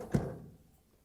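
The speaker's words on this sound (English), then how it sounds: "And now we can close the door." A GE freezer door shuts with a single soft, close thump followed by a brief muffled rumble fading out, no talk.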